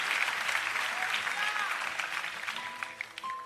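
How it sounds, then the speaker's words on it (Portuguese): A church congregation applauding during a night vigil service, a full steady round of clapping that thins toward the end, with a voice heard faintly through it. "Os que podem dar a Jesus uma linda salva de palmas, porque Ele é bom"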